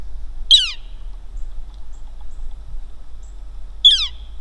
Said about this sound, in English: it's a northern flicker